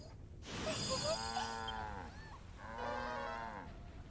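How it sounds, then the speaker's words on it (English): A cow in Dragon Quest Builders 2 gives two long drawn-out moos, the first rising and falling, then a second after a brief pause, clear and fairly close over quiet game ambience. "I found a cow."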